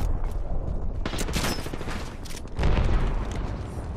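Rapid gunfire in the video game Apex Legends during a squad fight, dense bursts of automatic shots and impacts, loud and close, with a heavier boom near the end.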